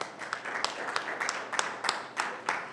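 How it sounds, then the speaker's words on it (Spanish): Clapping from a small audience at a UACM session, a moderate patter of hands with distinct sharp individual claps spaced through it, no speech. "Y un aplauso para Andrés Cisneros."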